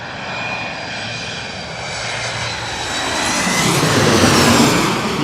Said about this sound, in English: American Airlines from Detroit, an Embraer E175.